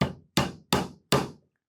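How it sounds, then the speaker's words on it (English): Four sharp, evenly spaced hammer blows drive a nail into the wooden side of a DIY toolbox, each strike ringing briefly before fading, close and loud with silence between hits. "I'm going to hold it in place with my non-dominant hand and tack in a nail."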